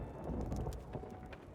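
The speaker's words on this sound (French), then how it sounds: "Ouf, là une sacrée tempête." Steady rain on a surface with rumbling thunder during a storm in the pirate video game Sea of Thieves, a dense, continuous wash of downpour at moderate level with low booming swells, no voices.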